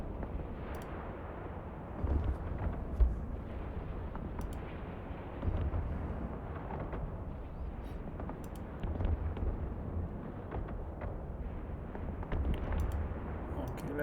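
Explosions and weapon fire from an Eve Online Dominix battleship fighting in a level 4 mission, low rumbling blasts recurring every few seconds in a muffled, band-limited mix.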